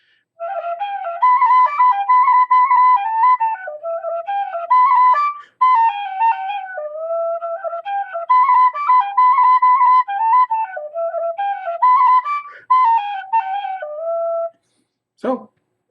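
A bright 3D-printed tin whistle plays a quick, lilting melody full of fast ornaments and trills, pausing briefly midway, ending with a short sharp click.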